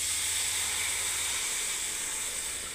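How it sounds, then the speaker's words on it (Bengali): Water poured into a hot pan gives a steady, close broadband hiss that holds evenly for a few seconds and then tapers slightly, with no voices. "দেখুন, এবার আমি জল ঢেলে দিচ্ছি বন্ধুরা।"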